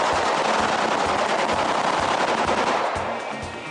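Gunfire staged on the set of the 24 TV film Redemption: a dense, loud burst of rapid automatic shots in steady rhythm, filling the whole moment and tailing off slightly at the end, with no voices.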